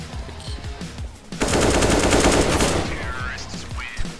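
Gunfire in a first-person shooter game: a short sustained burst of rapid automatic fire in the middle, loud and close, with an excited voice talking around it.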